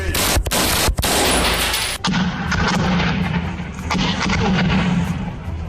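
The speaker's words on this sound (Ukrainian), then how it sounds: "Наші військові змушені відкрити вогонь у відповідь." Loud, close gunfire: a few sharp cracking shots, then a sustained heavy roar of firing that keeps going.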